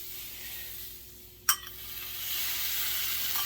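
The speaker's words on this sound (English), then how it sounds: "we have our pan hot now. We put bacon grease in there." Hash browns fry in a hot pan with bacon grease, giving a faint, continuous sizzle that swells slightly toward the end, broken by one sharp clink of a utensil against the pan.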